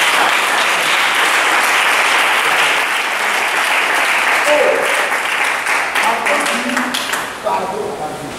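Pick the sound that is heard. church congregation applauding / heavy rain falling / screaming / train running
church congregation applauding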